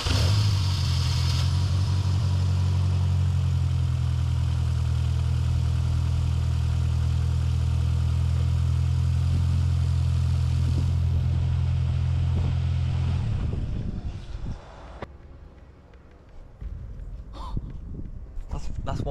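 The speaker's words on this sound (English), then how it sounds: "Now I went to start the car to bleed the coolant system" A Mini Cooper engine runs steadily at idle with a low droning hum during a coolant bleed, then cuts out abruptly, leaving scattered clatter and background noises after the engine stops; voices are present around it.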